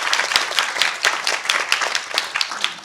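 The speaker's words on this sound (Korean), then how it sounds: "장관님한테 박수 한번 보내주세요, 여러분들." Audience applause for a minister at a Korean research-institute talk concert: dense, steady clapping from a crowd filling the whole stretch, loud and continuous with no talk over it.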